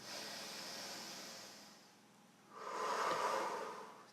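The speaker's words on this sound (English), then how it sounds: "Big inhales in. Nice controlled exhales." Deep, controlled breathing during a low-impact stretching workout: one long, steady airy inhale, a short pause, then a stronger, fuller exhale, close and alone.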